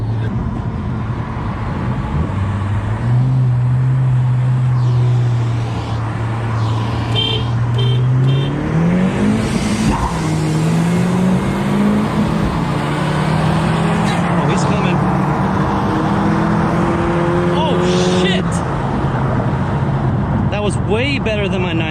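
2020 Honda Civic Si drag racing a 2009 Chevrolet Cobalt SS: a loud engine drone climbs steadily through several gear changes over about twenty seconds, with people talking over it.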